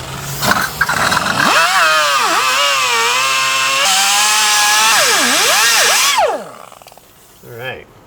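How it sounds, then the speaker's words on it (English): A cutting wheel grinds through a rusted rear sway bar link on a 2003 Ford Explorer, a loud sustained high whine that dips and rises as pressure shifts, then cuts off abruptly and winds down. "we went ahead and got a cutting wheel and cut her off"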